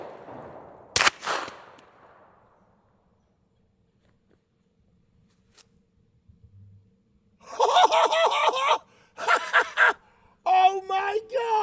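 Several suppressed shots from a 10mm 510 pistol with full power loads, fired at an outdoor range, come as short loud bursts in quick succession. A sharp crack sounds near the start and is followed by a long quiet stretch.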